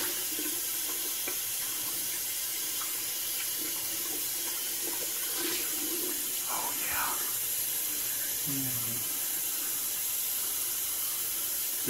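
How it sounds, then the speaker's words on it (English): Cold water runs steadily from a tap into a sink, a continuous close hiss throughout with faint movements and soft murmurs over it. "Let's get the cold water going."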